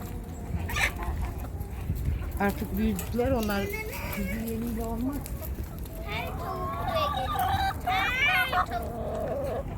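Hens cluck and warble repeatedly close by, with rising and falling calls mixed among people talking over a steady background hum.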